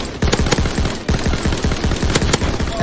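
Rapid automatic gunfire from the Call of Duty video game, bursts of close, loud shots in a steady rhythm across the whole stretch with no voices.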